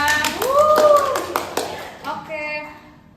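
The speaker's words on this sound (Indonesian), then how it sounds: "kita tepuk tangan dulu ya." A few hand claps ring out in a podcast studio, brief and close, mixed with voices talking over them.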